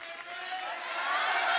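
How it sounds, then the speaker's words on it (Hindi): A comedy show studio audience breaks into loud, sustained applause and cheering that builds steadily, dense and close with mingled voices. "जोरदार तालियां हो जाए।"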